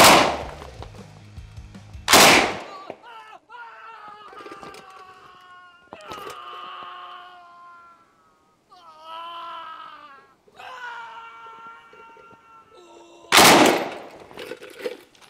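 An RPD light machine gun fires three short, loud bursts close by, each a sharp broadband blast, with speech filling the quieter stretches between them.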